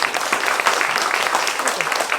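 Audience clapping in a hall as a child-psychology counselling lecturer is welcomed to the stage; dense, steady applause from a crowd across the whole stretch, close and fairly loud, with no talk over it.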